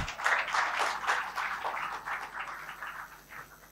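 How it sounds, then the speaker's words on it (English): Scattered audience applause at a student public-speaking competition, moderately loud and steady for a few seconds with no talk over it. "Please give a huge round of applause."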